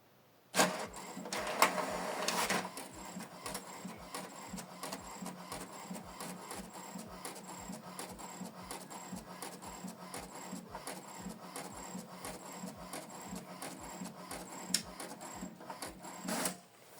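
An HP Deskjet 2922 inkjet printer printing a document on A4 plain paper: a noisy feed at the start, then a long steady run of rapid rhythmic clicks and whirring as the print head shuttles, with a final burst as the page ejects.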